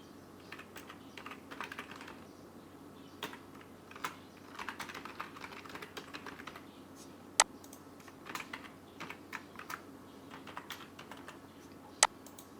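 An email address and password being typed on a computer keyboard, with a quick irregular run of soft close key clicks in bursts over a faint hum and two sharper louder key strikes.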